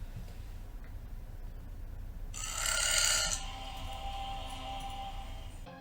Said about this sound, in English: I don't even know how many times I burped.